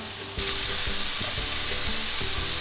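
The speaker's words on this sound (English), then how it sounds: "We need to get this pretty hot till it starts to sizzle" Shrimp sizzle loudly in a hot pan, a constant hiss broken by the scrape and clatter of stirring.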